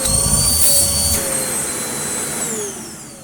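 A Hoover Rapid vacuum cleaner, picked up free and switched on after checking its filter, roars loudly with a high whine that then settles and slowly fades as the motor runs on, close by, with no talk.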